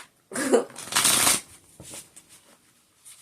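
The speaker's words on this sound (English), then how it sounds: "I'm going to do 2 more shuffles, and then I'm going to spread out some cards." A deck of cards shuffled by hand, two quick riffling bursts close to the microphone, followed by softer brief card handling and taps, with no voice.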